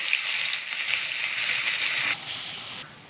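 Steady, close hiss of chopped onions and dried red chilies frying in hot oil, a bright crackling sizzle that drops suddenly quieter near the end.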